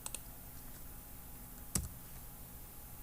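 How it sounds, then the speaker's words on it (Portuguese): Computer keyboard keys are pressed in a quiet room: a couple of light clicks at the start, then one sharper, louder keystroke about halfway through. "Enter no teclado."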